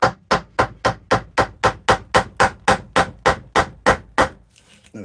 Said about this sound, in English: this is the correct use of one of these gouges